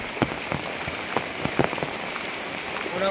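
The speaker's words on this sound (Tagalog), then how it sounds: "kusog kayo ang ulan" Heavy rain falls steadily on a surface, a dense hiss with scattered louder drops and pattering close by, and no one speaking.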